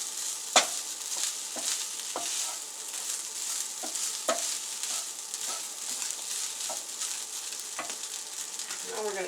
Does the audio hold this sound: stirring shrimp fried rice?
yes